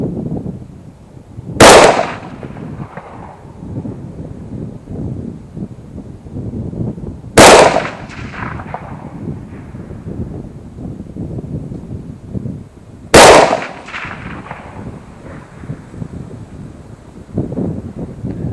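Three sharp rifle shots from a PSAK-74 at outdoor target practice, evenly spaced about six seconds apart, each a loud crack with a short decaying tail, over constant heavy wind buffeting the microphone.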